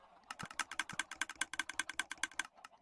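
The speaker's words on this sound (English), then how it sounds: "it's kind of a cool clicking sound because it's very staccato" A chicken item sorter in Minecraft fires with rapid, staccato clicks, a steady run of about twenty sharp ticks over a faint low hum, with a couple of deeper thumps near the start.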